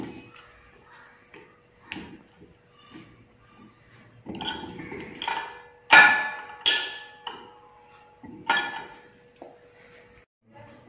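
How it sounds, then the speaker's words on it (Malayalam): A spanner tightens the fitting on an oxygen cylinder regulator, giving sharp metallic clinks and knocks spread irregularly, near and alone, with quiet handling sounds between them. "ബാക്കി നമുക്ക് ഈ സ്പാനർ വെച്ചിട്ട് ടൈറ്റായി കൊടുക്കാം."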